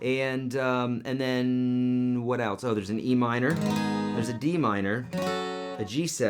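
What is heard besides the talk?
No everyday noises stand out.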